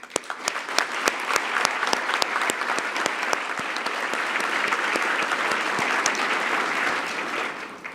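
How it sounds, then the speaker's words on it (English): Guests at a scholarship gala applaud warmly, a crowd of hands clapping steadily with a few sharp, close individual claps standing out over the dense wash, dying away at the end. "So please join me in applauding them."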